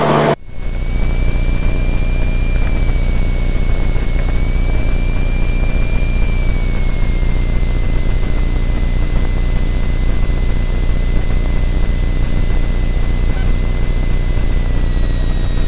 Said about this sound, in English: Just going to run the engine up to make sure everything's working the way we want.